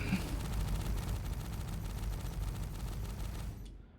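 A dense, continuous barrage of rapid ballistic cannon fire from an Aegis Sabre ship in Star Citizen, booming steadily for several seconds before cutting off abruptly.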